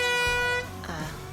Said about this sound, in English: you don't want to use your air horn at the golf tournament